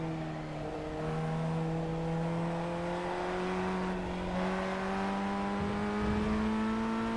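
FF1600 race car engine in the iRacing sim, a steady droning whine that dips briefly as the throttle lifts and then holds on, heard alone at moderate level.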